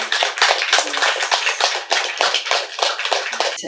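An audience at a spiritual meditation gathering claps loudly and continuously, a dense run of close, sharp hand claps with no voices over it.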